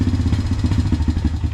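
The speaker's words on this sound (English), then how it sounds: "Still kind of got a bit of a hesitancy when you give it revs and it kind of starts to come down on the revs." A 17-year-old Honda engine idles roughly after being revved, a loud close-up rumble that pulses unevenly as the revs hang up and sag, with no talking over it.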